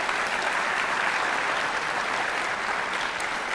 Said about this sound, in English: let's give them another round of applause for those students